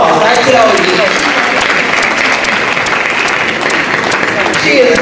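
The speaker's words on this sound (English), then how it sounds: "let's give her a big round of applause" Loud, sustained audience applause welcoming a singer at an NAACP Mother of the Year event, a dense continuous roar of clapping close by with no pauses.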